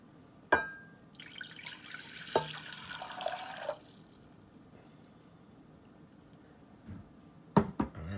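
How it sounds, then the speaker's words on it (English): Water runs into a pot beside an Elite Cuisine ESB-301BF electric single burner, a steady pour of a couple of seconds framed by sharp clanks and knocks of the pot being handled. "water is in."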